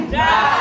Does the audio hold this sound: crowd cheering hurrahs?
yes